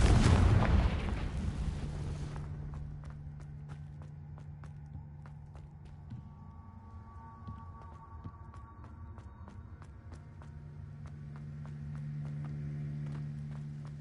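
Confringo blasting spell in the video game Hogwarts Legacy, a loud booming explosion at the start that decays over a couple of seconds, followed by quieter game ambience with light footstep-like clicks and a low hum.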